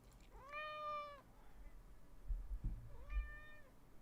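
Two separate cat meows, the first drawn-out and the second shorter, sound close by with a pause between them and no talking.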